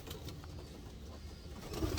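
A racing pigeon coos softly, a low murmuring call that swells near the end against quiet background noise.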